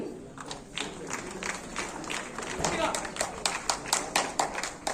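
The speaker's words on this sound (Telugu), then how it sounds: "క్లాప్స్ అండి" A crowd claps at a journalists' welfare association awards event in Vijayawada. Rapid, scattered hand-claps build into sustained applause while a voice keeps talking over it.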